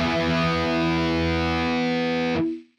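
Heavily distorted pop punk electric guitar tone from a Quad Cortex modeler, a sustained loud power chord ringing steadily before being cut off abruptly and fading out.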